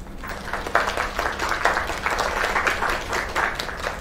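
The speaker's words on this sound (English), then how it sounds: "Another round of applause." Audience applause in the video game Lake, a steady wash of many hands clapping at moderate loudness that holds evenly for several seconds with no talk over it.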